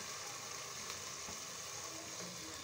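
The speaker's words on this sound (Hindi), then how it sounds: "ये देखें अब हम इसमें चिकन डाल देंगे।" Masala of softened tomatoes frying in a pan for chicken with chickpeas, a steady faint sizzle and crackle that runs throughout with no voices.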